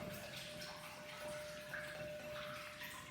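The remaining water is poured into dissolved yeast for homemade bread dough, making a faint, continuous trickle and splash that runs steadily throughout with no talking.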